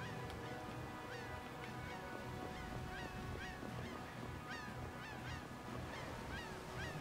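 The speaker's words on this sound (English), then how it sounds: "Those birds are chirping, or seagulls, or whatever the hell they are." Birds or seagulls call repeatedly in the video game Tales of Vesperia, with short honking, goose-like cries over a steady dense ambient background of game music and wind, continuous and fairly loud throughout.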